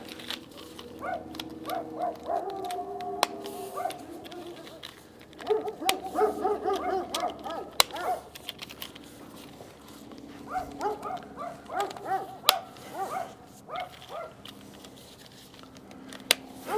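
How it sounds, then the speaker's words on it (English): Several dogs bark in repeated bursts from moderate distance around a workshop, with yips and whimpers mixed in, coming and going over a steady low background. "Barking dogs."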